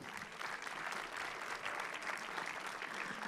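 A film festival closing ceremony audience in Saint-Jean-de-Luz breaks into sustained, dense applause, a steady wash of clapping from a large crowd lasting the whole stretch.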